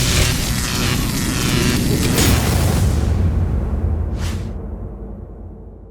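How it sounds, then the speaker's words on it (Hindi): A loud, sustained explosion from an animated superhero film rumbles and roars for several seconds, followed by a brief whooshing burst before the sound gradually fades away. "यहाँ पे एक जबरदस्त किस्म का धमाका होता है"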